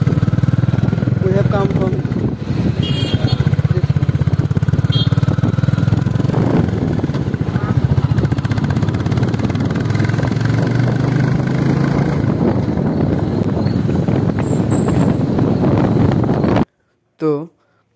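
A 2024 Royal Enfield Classic 350 in Stealth Black rides along a highway, its steady engine drone and wind rush loud and continuous, with a voice talking over it before the sound cuts off abruptly near the end.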